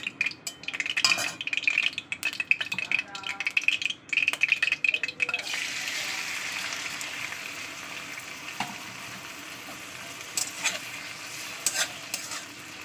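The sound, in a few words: shrimp frying in hot oil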